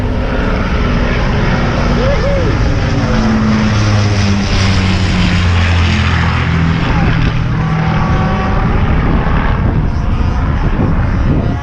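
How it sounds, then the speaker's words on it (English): Avro Lancaster bomber flying overhead beside a canal, a steady propeller-engine drone swelling and shifting pitch as it passes, heard outdoors with people talking nearby. "that's the Lancaster"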